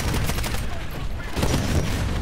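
Automatic gunfire in the game Titanfall rattles in a dense, continuous stream, loud and close, with a brief lull midway before the shooting swells again.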